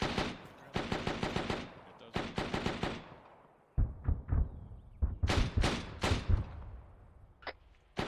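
Rounds fire repeatedly in the ARMA 3 military game: rapid bursts of heavy automatic fire, loud and close, followed by deeper thudding impacts and more bursts. Voices speak faintly underneath.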